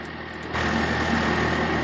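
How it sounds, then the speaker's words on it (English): Truck engine in Farming Simulator 22, pulled over after a steep hill climb: a steady, loud idling drone that jumps up in level after a brief quieter start and holds constant. "Man, that truck's loud."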